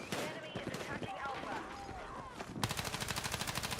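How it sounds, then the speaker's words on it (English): Loud gunfire in the video game Arc Raiders, with scattered shots early on, then a rapid, steady automatic burst that dominates the last second or so. "that's one thing I like about Arc Raid is that gunfire is very loud"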